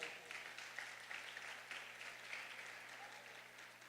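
Dense, steady clapping from a church congregation, fairly soft and distant, sustained throughout without pause.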